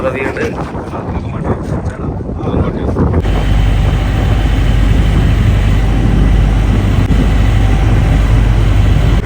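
Engine of a deep-sea fishing boat running offshore near Lakshadweep, a loud steady low rumble under strong wind and water noise, continuous after a brief noisier opening.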